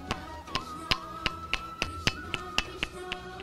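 Taps struck on a stone of Govardhan hill near Mathura, a run of about a dozen sharp, bright knocks at a steady, even pace, close and clear over faint background noise.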